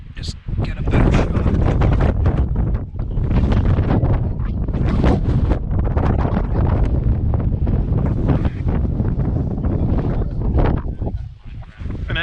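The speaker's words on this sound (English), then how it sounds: "And as you can tell, it's very windy up here" Strong wind buffets the microphone on a hilltop in the Kinsmans, loud gusty rumbling that rises and falls throughout, with a voice talking faintly beneath it.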